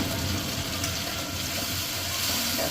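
Spice paste poured into hot mustard oil in a kadai, making a loud, continuous hiss and bubbling sizzle close to the pan, steady throughout with no voices.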